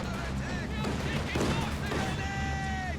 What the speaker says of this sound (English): Machine gun actually doing a lot of damage to the Zis.